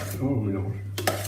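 A pâté filling with parsley being mixed in a bowl, close scraping and knocking of a utensil against the dish, ending with a couple of sharp clinks, with a steady low hum beneath.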